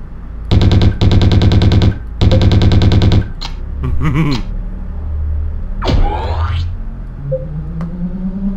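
Cannons blaze in the Battlezone II combat game as two long, rapid automatic bursts, loud and close, followed by a few scattered shots, swooping effects and low rumble.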